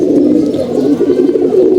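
Pigeons in a home loft coo in a dense, continuous low murmur, close and loud, with several birds overlapping through the whole short stretch.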